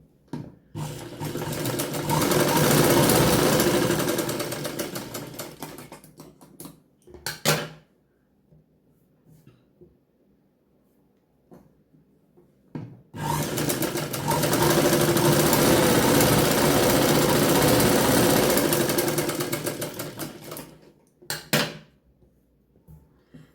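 A sewing machine stitches tucks on a blouse in two long, loud, steady whirring runs. Short clunks and a quiet pause separate the runs.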